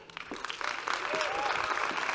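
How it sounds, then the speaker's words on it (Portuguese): A crowd applauding, a continuous wash of clapping that builds and stays steady, with a few voices cheering within it. "Uma salva de palmas, Aline Cardoso."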